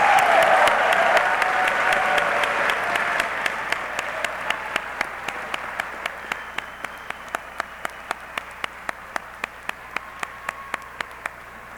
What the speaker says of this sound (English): give all of our spouses, parents, family members, and friends a huge round of applause